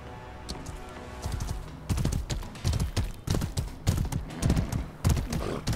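Rhythmic clip-clop of horse hooves galloping in the video game Mordhau, speeding up and growing louder after a quieter start, steady and close with no voices.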